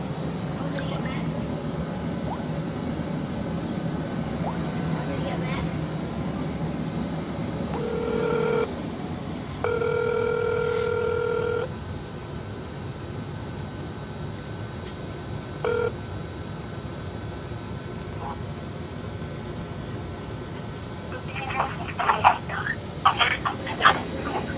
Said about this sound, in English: I'm going to get Matt on the phone right now